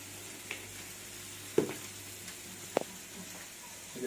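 Chicken with chili powder sizzles quietly in a pan while being stirred, with a few sharp clicks and scrapes from the spoon against the pan standing out over the steady frying hiss.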